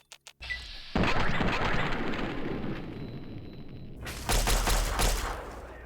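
Weapons firing in Fallout 3: a dense, sustained roar of blasts and crackling fire that starts abruptly, runs for several seconds and swells louder near the end, heard alone without voices.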